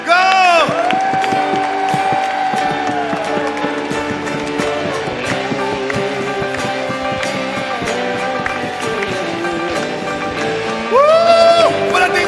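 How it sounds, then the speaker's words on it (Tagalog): A church congregation gives long applause at a worship service, with loud shouting, cheering and whoops layered over steady clapping that swells again near the end. "lahat ng papuri, parangal, ibibigay mo sa Panginoon sa pamamagitan ng napakahabang palakpak"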